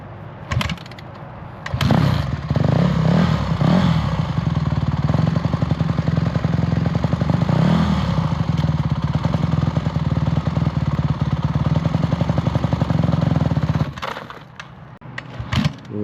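Motorbike pulling away with a learner rider, engine revving up into a loud, sustained buzzing drone for about twelve seconds before cutting back to a quieter idle.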